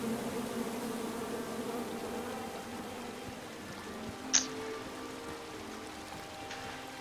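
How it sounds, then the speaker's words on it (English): Bees buzz steadily in the King's Quest video game, a continuous droning hum under soft rain-like background noise, with one brief sharp click partway through. "Come at me, bees!"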